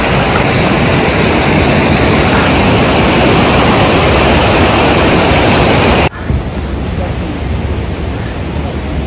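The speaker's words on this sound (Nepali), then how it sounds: "हिम पहिरो आइरहेको रहेछ" Avalanche thundering down a slope near Gurja Himal in the Nepal Himalaya, a loud, steady broadband roar that holds unbroken for about six seconds, then drops abruptly to a softer, lingering rush.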